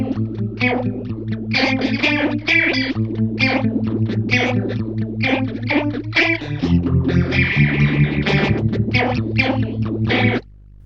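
Guitar run through the special effects mode of a Zoom 9030 effects processor, a dense, distorted, chorus-laden stream of notes with shifting harmonised tones, loud and continuous before stopping abruptly.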